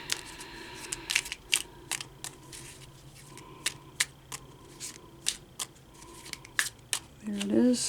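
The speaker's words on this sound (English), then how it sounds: "I'm just going to keep shuffling them because I've flipped a bunch of them." Tarot and oracle cards being shuffled by hand, a quiet run of sharp, irregular snaps and riffling clicks, with a brief murmur at the end.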